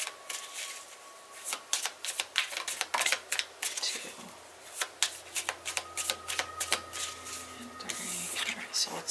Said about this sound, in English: Alright, 3 shuffles.